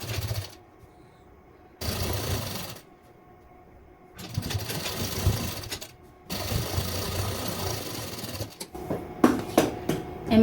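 A sewing machine runs in several separate bursts of steady stitching along a suit seam, each lasting one to three seconds, with quiet pauses between and some handling clatter at the end.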